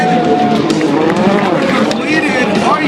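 Rallycross race car at an X Games event in Los Angeles running at full throttle despite broken suspension and a missing left rear tire, a loud continuous engine roar with tire noise, overlaid by an excited commentator.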